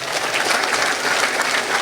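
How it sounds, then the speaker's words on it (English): An audience at a public talk gives a dense, continuous round of applause honouring mothers, loud and sustained with no speech over it. "Round of applause for our mothers who work so hard for us."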